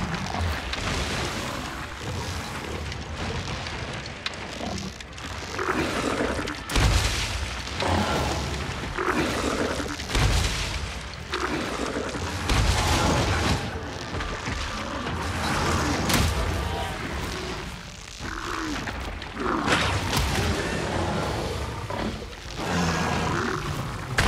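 Monster Hunter Rise battle on Nintendo Switch with a Tranodon ridden as a wyvern attacking Goss Harag: loud roars, heavy thuds and booming impacts follow one another in repeated bursts over a dense game soundscape.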